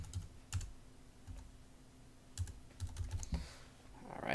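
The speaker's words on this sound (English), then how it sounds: "So I'm going to type in mine." Computer keyboard keys tapped in short irregular bursts while entering an IP address, quiet and close, with pauses between clusters of keystrokes.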